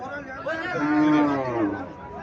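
An Indian Haryana cow lows at a Comilla cattle market, one long, loud, drawn-out moo that rises and then tapers off, nearby and set against faint market chatter.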